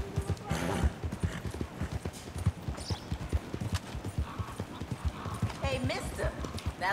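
Horse hooves in Red Dead Redemption clip-clop in a quick, rhythmic gallop close by, running steadily throughout while a voice talks over it.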